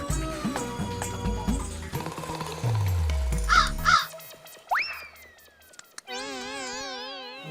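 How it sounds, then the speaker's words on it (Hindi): A crow caws several times in quick succession, loud and close, set among cartoonish sound effects and a boing, with no talking. "बेशरम कौवे"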